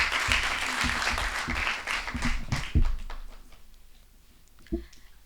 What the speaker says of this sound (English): Clap for her as she comes.